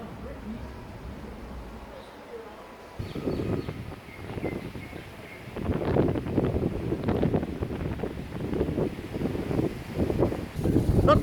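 Strong wind in Mauritius buffets the microphone, first as a low rumble and then in loud, rough gusts that surge and fade repeatedly, with a faint voice underneath.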